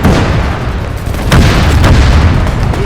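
Cannon fire in a war video game booms in heavy, rumbling blasts, loud and close, with a couple of sharper bursts rolling over a dense low-end din.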